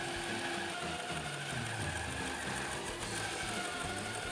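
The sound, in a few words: band saw cutting plywood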